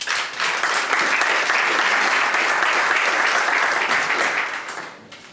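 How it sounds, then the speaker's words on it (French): Enthusiastic audience applause at a formal gathering, a loud, dense, sustained roar of clapping from a large crowd that fades off near the end. "Ça s'applaudit s'il vous plaît."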